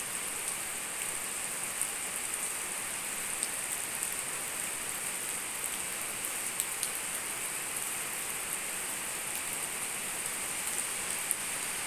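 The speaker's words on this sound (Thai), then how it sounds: "ฝนตกฝนตก ฝนตกฝนตก" Rain falls steadily in an all-day downpour, making an even, continuous hiss with scattered drops. It sounds soft and constant, and no voices are heard.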